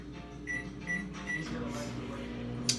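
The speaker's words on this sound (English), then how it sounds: "So we're sticking in the microwave." A microwave oven hums steadily, with three short beeps early on and a brief click near the end.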